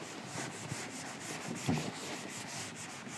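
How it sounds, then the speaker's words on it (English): Writing being rubbed out on a board during a reinforced-concrete design lesson, a soft, continuous scrubbing rub with a slightly louder stroke midway, no voices. "I am rubbing out unwanted part now."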